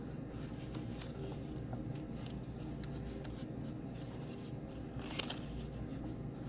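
Scored paper is folded along its lines, producing close, continuous soft rustling and crinkling with occasional sharper creases, quiet and steady throughout.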